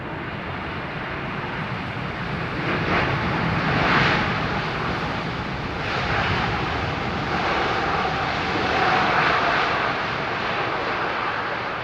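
An airliner comes in to land on runway 27R at London Heathrow, its engines a loud, sustained broadband roar that swells and eases slightly, heard without talk.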